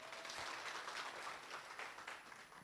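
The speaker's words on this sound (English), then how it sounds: "could you please clap for them?" Audience clapping at the Kenya Population and Development Conference, a brief burst of continuous applause from a hall full of people, fairly soft and steady with no talk over it.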